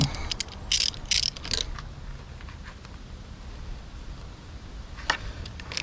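A hand ratchet tightening bolts on a Glastron speed boat's motor gives several quick bursts of close clicking, then a quiet pause and one last short burst of clicks near the end.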